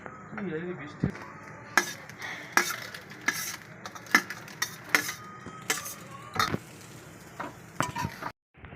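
A spatula scrapes and clinks against a pan in repeated strokes while vegetables for egg chow mein sizzle steadily underneath.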